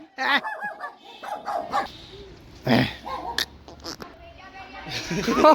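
A husky barks and yips several times in short bursts, close by, with people talking and laughing around it.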